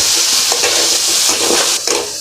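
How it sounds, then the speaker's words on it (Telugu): Raw banana pieces fry in a pan with a steady, bright sizzle, interrupted by soft stirring scrapes, close and loud with no talking. "అరటికాయ ఫ్రై కూడా చేసేస్తున్నాను."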